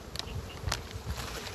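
Honeybees buzzing steadily around hive frames during a smoked hive inspection, a dense close insect drone with a few brief louder swells.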